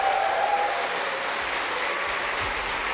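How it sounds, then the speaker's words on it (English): Steady applause from a large esports event crowd at an Age of Empires grand final, loud and sustained with no break, a dense patter of clapping throughout. "One last round of applause."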